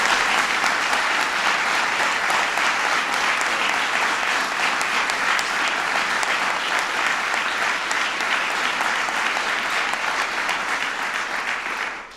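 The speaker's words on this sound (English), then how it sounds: "everybody give Bob a big round of applause" A large audience applauds steadily at a political cabinet nomination event, a dense, even wash of clapping that holds strong throughout and only fades at the very end.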